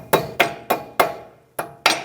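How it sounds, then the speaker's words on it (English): A hammer taps a front CV axle seal into place on a 2008-2013 Nissan Rogue: six sharp, close metallic knocks in a fairly steady rhythm, with a brief pause before the last two. "And I'll just take a hammer"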